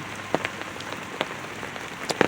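Heavy rain pours down in a constant soft hiss, with sharper drops tapping irregularly on a nearby surface.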